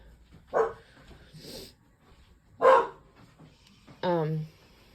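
A few sharp dog barks ring out at intervals, fairly close, with a longer whining bark at the end and quiet background between them.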